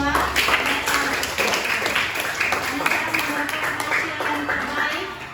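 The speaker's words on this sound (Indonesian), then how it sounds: "beri tepuk tangan dulu untuk kita semua" Students in a junior high classroom clap together at the end of a lesson, a steady, fairly loud patter of many hands lasting several seconds.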